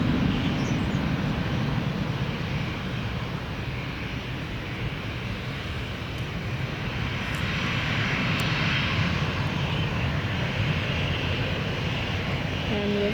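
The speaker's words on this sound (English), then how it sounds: "And reverse thrust goes in." An airliner landing at Manchester Airport with reverse thrust engaged, a loud, sustained broadband jet roar that swells and holds steady throughout, close and continuous with no talk over it.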